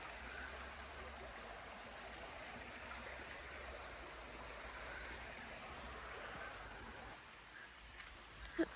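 Water from a stream or waterfall near a campsite by Lake Paringa, New Zealand, rushes as a faint, steady broadband hiss in the distance, with a few soft knocks near the end.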